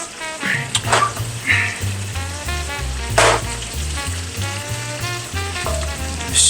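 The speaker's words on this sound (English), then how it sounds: "Just stir these around inside the sauce here." Sticky Asian-style pork ribs sizzling in a thickened sauce in a pan while being stirred around, a dense crackling fry with repeated scraping strokes, close and steady without speech.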